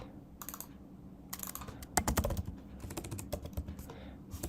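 Fingers type on a computer keyboard nearby in irregular bursts of crisp key clicks, with short pauses and a denser flurry midway, no voices.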